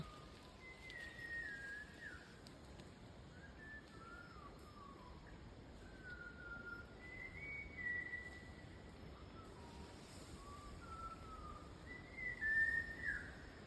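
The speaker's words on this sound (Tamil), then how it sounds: "இங்கே எப்போதுமே ஒரு குருவி வந்து பாட்டு பாடுங்க" A small sparrow sings short, high whistled phrases at intervals, faint and distant over a quiet outdoor hiss.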